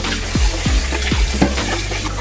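Steady loud sizzling of chicken frying in hot oil, with a few low gurgling pops and stirring sounds close by, no voices.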